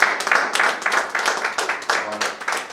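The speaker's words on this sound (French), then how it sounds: "Ça mérite des applaudissements." A small group applauds at a handover ceremony, with scattered, uneven clapping in bursts and a faint voice briefly present underneath.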